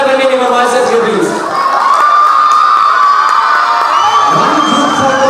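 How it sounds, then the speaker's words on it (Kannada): A large crowd cheers, whoops and applauds loudly for dance masters at a stage event, with high children's shouts carrying through a continuous wall of noise. "ಜೋರಾದ ಚಪ್ಪಾಳೆ ಬನ್ನಿ ನಿಮ್ಮ ಮಾಸ್ಟರ್ಸ್ಗೆ ಪ್ಲೀಸ್"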